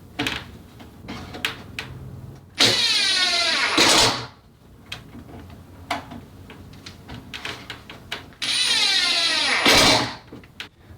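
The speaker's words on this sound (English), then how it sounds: "then you just screw down while holding the corners together" A screw driven into the corners of a cedar planter box: two long, loud power-driver whirs rising in pitch, each lasting over a second, separated by quieter handling clatter and knocks, no talking.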